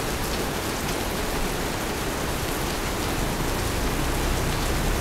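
Heavy rain pouring down in a flooding neighborhood, a dense, even roar of drops hitting surfaces that stays loud and unbroken throughout, with no talk.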